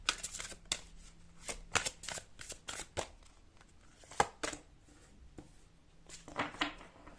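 Tarot cards being shuffled by hand, a rapid series of crisp riffling slaps and soft flicks in irregular bursts, close and quiet.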